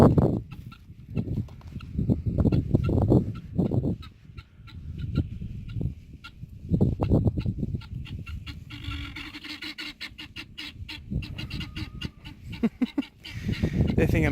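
Chickens cluck and squawk in bursts while being chased and caught for a new run, loud agitated calls at first then rustling flapping and scattered cries, with occasional voices nearby.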